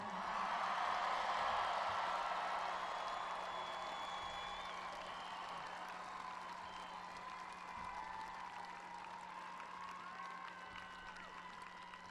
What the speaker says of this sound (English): now I ask you to give a resounding cheer for those who helped you reach this day